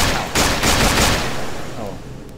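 Rapid gunshots fired at zombies in a desert horror game, a loud close burst of several shots in quick succession followed by a fading tail.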